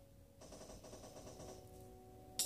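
A regular gun firing in a video game, a quiet burst of rapid repeated shots lasting about a second that ends in a brief louder click, with no talking.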